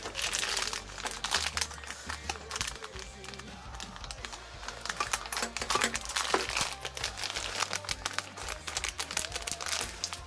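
Plastic packaging of a Takara Tomy Beyblade Burst GT Ace Dragon toy being opened with scissors: close, busy crinkling and crackling of plastic with sharp snips and rustles, steady and moderately quiet throughout.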